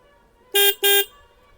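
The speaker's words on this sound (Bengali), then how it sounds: "লাউড হর্ন কিন্তু আপনি এখানে পেয়ে যাবেন" A Bajaj Pulsar 125 motorcycle horn sounds two loud, close toots in quick succession, the first slightly shorter, with a brief gap between them and nothing else around.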